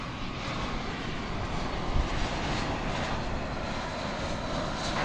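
An airliner inbound from Santa Barbara lands at Dallas Fort Worth airport, its engines a steady, loud broadband roar that holds evenly throughout with no voices over it.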